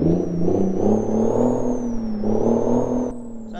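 A heavy truck engine in American Truck Simulator revs and climbs, a loud, close, droning rumble with rising and falling pitch and a whining tone above, easing off near the end with no talk.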